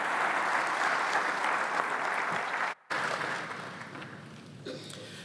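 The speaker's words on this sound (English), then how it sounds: "So let's please give him a round of applause again." A crowd at the closing session of a Smart Africa leaders' summit claps steadily and loudly, breaks off for an instant, then resumes and slowly fades toward the end.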